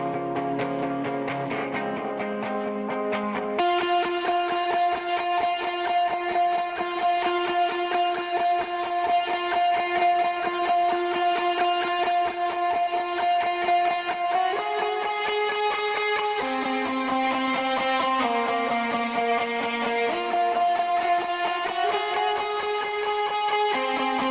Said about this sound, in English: This is where the guitar really comes into play.